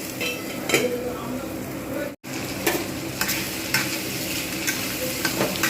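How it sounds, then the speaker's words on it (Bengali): Potatoes and onions fry over low heat in a pan for a bottle gourd and prawn curry, a steady close sizzle with intermittent stirring scrapes and clinks, broken by one brief dropout. "আলুও ভাজা হবে সাথে সাথে পেঁয়াজও ভাজা হবে"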